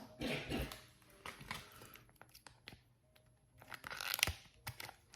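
A Color Street nail strip package is torn open by hand, with brief crinkly rips and rustles of packaging close by, separated by quiet pauses and ending in a louder tearing burst.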